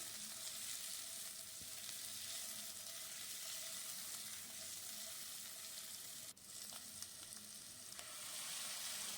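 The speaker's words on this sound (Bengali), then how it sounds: "নুন দিয়ে আলুটা ভাজলে ভালো হবে" Salted potatoes fry in oil for a Bengali cauliflower and paneer dish, giving a steady, faint hiss of sizzling with a brief dip partway and light background clatter.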